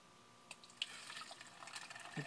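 Soap mixture made with titanium dioxide is poured into a jug, giving faint splashes, drips and a few small clinks, quiet and close, with no talking.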